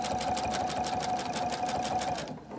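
A sewing machine runs fast and steady while stitching binding onto a quilt, its needle producing an even rapid rhythm for over two seconds before stopping abruptly. No voices.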